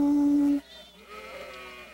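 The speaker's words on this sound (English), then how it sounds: "His 100 sheep came running" Sheep bleat on a stony mountainside, a sustained bleat in the first half second followed by quieter, wavering bleats.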